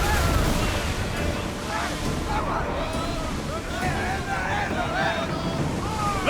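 Wooden sailing ship cutting through ocean waves in Assassin's Creed Odyssey, with steady rushing water and wind noise throughout and shouted crew voices and calls over the top.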